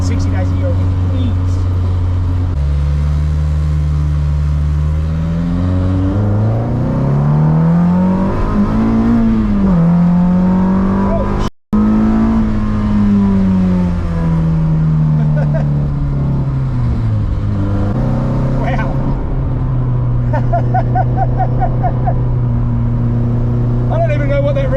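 A Ferrari-engined Alfa Romeo 105 roars loudly and close, its engine revving up and down in long sweeps with a brief cut midway before climbing and falling again.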